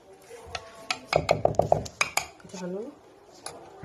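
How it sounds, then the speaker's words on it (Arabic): Seasoned onions and vegetables are stirred in a metal cooking pot, giving a quick run of close, ringing spoon clinks and scrapes. A voice is briefly heard near the end. "هنقلب بقى الحاجه دي كلها."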